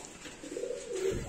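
Pigeons coo inside a breeding cage, a single soft, low throaty call rising and rolling over about a second, close and clear with no talking.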